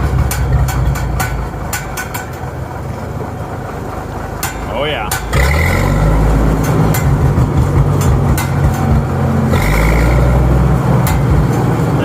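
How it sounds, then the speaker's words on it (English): A Minneapolis Moline G1000 tractor engine roars steadily close by while field cultivating in third gear, deepening and growing louder partway through, with clanking and a man's brief exclamation over it. "Tractor really has an awesome roar to it"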